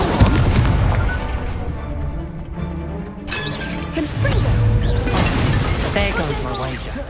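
Spell casting and fiery blasts in the Hogwarts Legacy video game, loud booming and crackling impacts that run continuously under dense game music and effects with no pauses.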